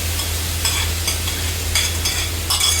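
Potatoes in a frying pan with tomatoes and salt give a steady close sizzle, broken by a few brief stirring scrapes, and no one speaks.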